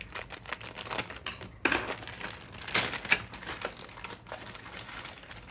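Packaging around the lower hull sprue of a 1:1000 Trumpeter Liaoning CV-16 carrier model kit is cut open, giving close crinkling plastic and a few sharp snips and rustles without speech.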